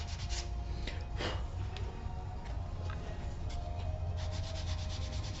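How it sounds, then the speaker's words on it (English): Sandpaper rubs lightly over thin 2 to 3 ounce leather wallet pieces, a steady close scratchy rasp with short repeated strokes, continuous and fairly quiet with no talking. "I'm sanding very, very lightly on these"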